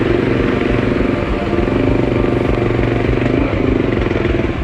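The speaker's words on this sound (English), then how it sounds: "this is a hell of a climb on a bike that's fully loaded down, especially a single cylinder thumper like this" A fully loaded single-cylinder thumper motorcycle labouring up a steep hill, its loud, close engine pounding out a steady rapid beat throughout without a pause.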